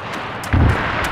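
Grenade explosion in the video game Arma 3 on an infantry map, a single heavy low boom about halfway through that rolls on briefly over steady background noise.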